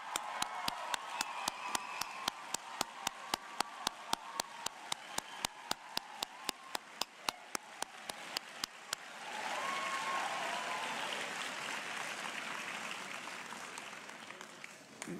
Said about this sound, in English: with a special round of applause.